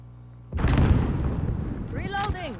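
A grenade bursts in a shooter video game with a sudden heavy boom that rolls out into a long rumbling tail, followed by a short whooshing, warbling effect near the end.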